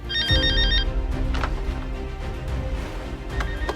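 A telephone rings with an incoming call, a bright electronic ringtone repeating in quick pulses over a busy film soundtrack with music underneath.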